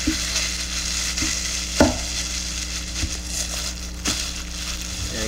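A hunting skinner knife package in bubble wrap being unwrapped, with close, crinkling, crushing plastic noises and several sharper pops and crackles spaced through the handling.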